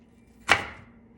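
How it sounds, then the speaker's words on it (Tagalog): A single sharp knife chop through an onion on a cutting board during dinner prep, one crisp close thud in an otherwise quiet kitchen. "yung sibuyas, hiwain naman natin."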